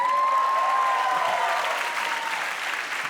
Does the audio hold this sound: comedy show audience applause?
yes